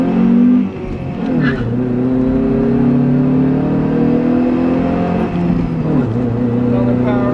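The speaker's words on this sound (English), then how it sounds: "Another power shift." A car engine revs and drops during a power shift, a loud close roar with a strong harmonic whine that dips sharply at each gear change, and a person talks over it.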